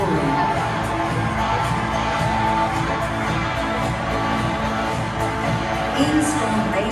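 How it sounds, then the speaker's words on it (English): A big stadium crowd roars and cheers at a rock concert at Adelaide Oval, a broad, sustained wash of voices with scattered whoops and shouts rising over it. "crowd roaring."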